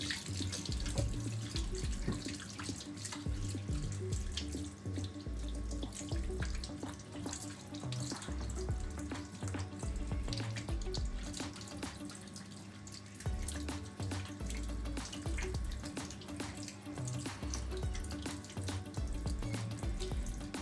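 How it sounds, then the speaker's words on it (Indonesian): Hands being rinsed under a running tap with clean water, a steady close splashing stream with shifting gurgles as the hands move, continuous and moderately loud with no voices. "lalu bilas lagi dengan air bersih dan mengalir sampai bersih"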